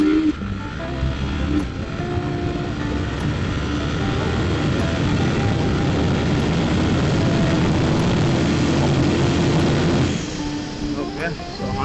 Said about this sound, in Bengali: তো আমরা সামনে গিয়ে দেন 0 to 100 একটা টেস্ট দেবো।